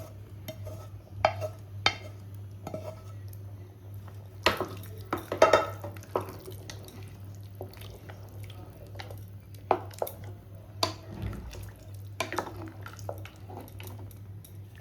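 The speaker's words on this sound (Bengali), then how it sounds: "এরকমভাবে আপনারা চালের সঙ্গে পুরো ভালো করে মিক্স করে দেবেন" Hot rice and braised chicken curry being stirred and mixed together in a pressure cooker, with repeated close scraping strokes and soft wet squishing at an uneven rhythm, moderately quiet with no talk over it.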